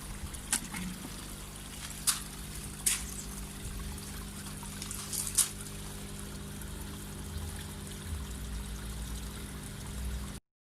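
Water trickles steadily through a DIY pond overflow siphon, a faint continuous flow broken by a few brief splashy bursts, then it cuts off abruptly.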